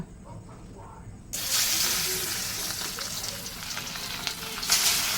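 Fish frying in a home kitchen pan gives a loud, steady sizzle that starts abruptly and carries on to the end, with faint clatter and a little water noise underneath.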